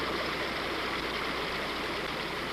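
Rushing river water tumbling through rapids below a mill race toward a mill pond, a steady broadband roar of churning current that holds constant and fairly loud throughout, with no voices.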